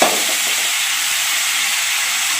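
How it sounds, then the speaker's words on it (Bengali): Chopped tomato drops into hot oil with curry leaves while cooking a paneer masala fry, giving a loud, close, steady hissing sizzle that runs for the whole moment without speech. "টমেটোটা দিয়ে দিলাম।"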